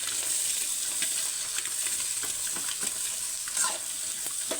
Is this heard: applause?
no